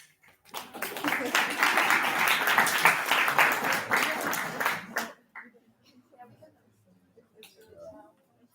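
A crowd at a general assembly applauds after approving a policy paper, steady dense clapping for about five seconds that then stops abruptly, followed by faint scattered sounds and murmuring.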